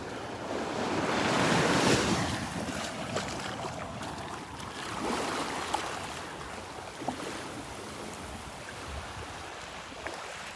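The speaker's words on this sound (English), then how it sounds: "Got an offshore breeze this morning, blowing from the east to the west." An offshore breeze gusts across a Gulf beach at Delnor-Wiggins while small surf washes in, wind buffeting the microphone in swells over continuous rolling wave noise.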